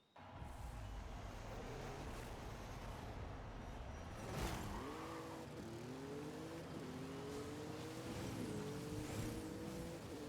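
Engine of an off-road performance Ford Bronco in the Forza Horizon 5 racing game, starting up and then droning steadily with rising and falling revs over a continuous rumble.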